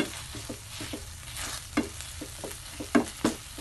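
Tuna sisig sizzles and cooks in a hot pan, a steady frying hiss broken by a series of sharp spatula scrapes and clacks, two louder knocks near the end, with no voices.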